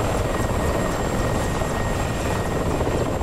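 A helicopter in the flight-simulation game DCS gives a loud, continuous rotor throb and engine whine, steady and close for the whole stretch.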